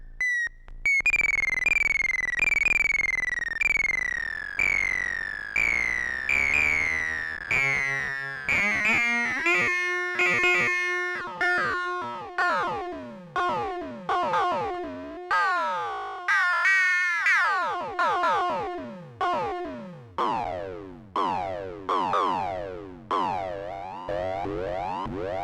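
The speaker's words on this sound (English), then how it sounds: "it has a LFO on that you can use to make kind of weird FM drums as well" A drum unit with its LFO driving FM produces strange, pitched electronic drum hits: repeated sweeping, zapping tones with bending pitch, fired in a steady rhythmic pattern, loud and alone.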